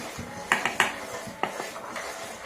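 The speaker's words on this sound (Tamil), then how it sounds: "இப்போ நம்ம அடுப்பில் வச்சு இதில் அரிசி மாவை நம்ம இதில் போட்டு கிளறலாம்." A spoon scrapes and clinks against a pot as rice flour is stirred into boiling jaggery for sweet kozhukattai, giving several close, uneven metallic taps over a soft background.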